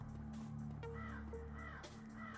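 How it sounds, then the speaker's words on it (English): Crows caw in the video game Shadowrun: Dragonfall, several harsh calls overlapping across the moment over a steady low background hum, fairly close and clear with no speech. "Scare the crows!"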